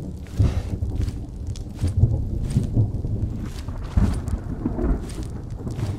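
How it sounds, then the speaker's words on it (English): Thunderstorm in the Old West video game Outlaws of the Old West, with a steady wash of rain and wind and low rumbling swells, continuous and moderately loud, no speech. "Thunderstorm. That's cool."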